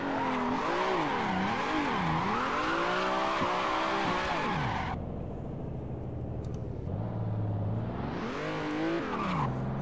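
A drifting car's engine revs and falls in sweeping waves while its tires squeal and skid in long wavering screeches, loud and close, with a brief lull before the engine climbs again.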